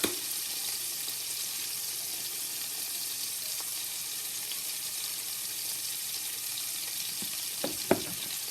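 Onions frying in a pan with dried basil, a continuous bright sizzle throughout with a few soft clinks near the end.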